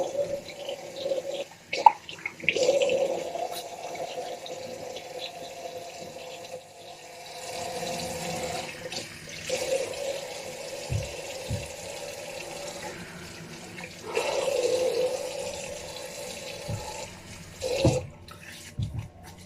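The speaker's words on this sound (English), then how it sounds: "We're going to wet the face here and start the pre-shave process." Tap water runs into a sink to wet the face before a wet shave, coming in several steady stretches of splashing flow with brief pauses between them, close by and moderately loud, with no talking.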